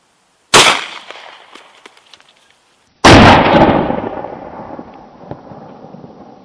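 Two loud gunshots from firing Winchester 165 grain PDX1 rounds into ballistics gel, sharp close blasts a few seconds apart, each followed by a long decaying outdoor echo.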